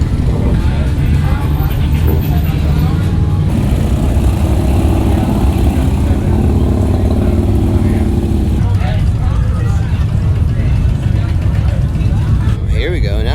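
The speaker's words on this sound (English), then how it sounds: "Okay, so I am on the brand new 1250 GS" A BMW R 1250 GS motorcycle engine runs steadily during a demo test ride at the Sturgis Motorcycle Rally, a constant loud drone mixed with wind rush, with a rider's voice talking over it.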